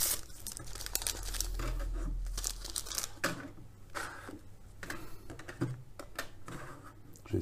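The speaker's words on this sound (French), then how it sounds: "Donc on va ouvrir la lingette." A screen-cleaning wipe sachet being torn open by hand, with close, crisp crinkling and ripping of the packet in short bursts, alone without talk.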